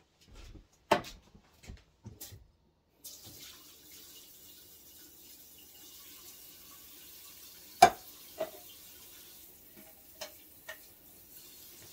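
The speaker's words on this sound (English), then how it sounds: "I'm going to walk over here to the sink and swirl a little water around in these tomato sauce cans" Water swirled around inside empty tomato sauce cans at a kitchen sink while making chili con carne: sharp metallic clunks and knocks at first, then a thin running-water wash with scattered splashes and bumps close by.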